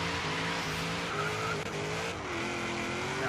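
Knight Rider KITT car in the Forza Horizon 3 racing game, a steady loud engine drone with tonal whine shifting slightly in pitch as it drives, with faint tire noise and no talk.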